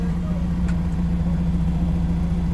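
Steady low engine idle of a 2014 Ford Escape 2.5 petrol automatic, warmed up, with a constant hum, a faint irregular knock ticking underneath, no voices.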